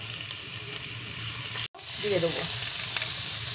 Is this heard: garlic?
yes